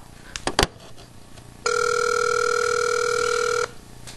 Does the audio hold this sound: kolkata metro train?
no